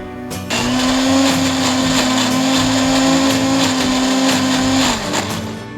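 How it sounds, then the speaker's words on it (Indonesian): A blender grinds spice paste of lemongrass blended with oil, a loud, steady motor whine that starts abruptly after half a second, holds an even pitch for about four seconds, then winds down near the end. "Cuman aku suka di blender dan nanti akan kita goreng bareng"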